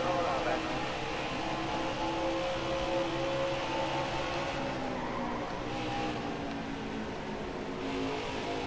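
Race cars at Darlington in NASCAR Heat 5, a continuous roar of engines with tire squeal, heard under steady commentary talk.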